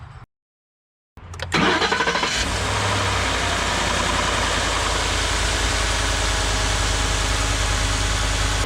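A Ford F150 engine cranks briefly after an oil change, catches and settles into a loud, steady idle close by, with no talk over it.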